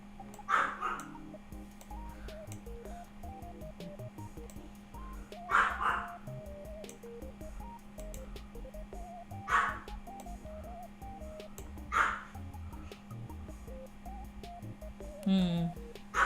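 Dogs bark in several bursts a few seconds apart over a steady background hum with faint music, sounding somewhat distant.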